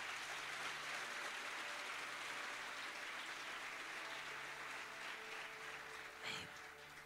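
A church congregation at a praise and worship seminar applauds steadily with a soft, distant wash of clapping that holds evenly throughout, with a brief louder bump near the end.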